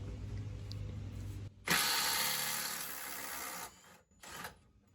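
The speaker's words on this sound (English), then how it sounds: "This little impact driver is a champ" A Milwaukee 12V 1/4-inch Fuel impact driver removing a rear shock bolt: a low hum gives way to one loud, close rattling burst of about two seconds, then a short second burst.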